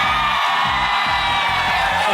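A studio audience at a Filipino Family Feud game show taping shouts and whoops together in a loud, sustained crowd roar, with rhythmic bursts rising through it, close and continuous for the whole moment.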